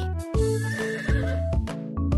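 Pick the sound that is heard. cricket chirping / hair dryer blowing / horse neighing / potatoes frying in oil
horse neighing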